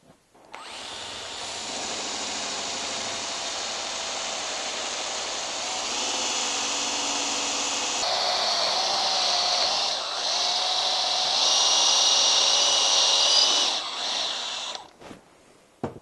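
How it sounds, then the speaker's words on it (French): Power drill boring a hole in a molded homemade magic object, a steady close whine held for about fourteen seconds that shifts pitch slightly partway through and then stops. "Et on va percer le trou."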